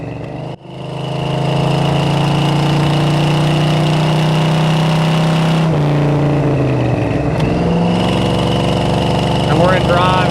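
A 1974 Dodge Challenger engine runs loud and close, steady at first, then dips and shifts pitch as the car downshifts into second gear before the revs settle again.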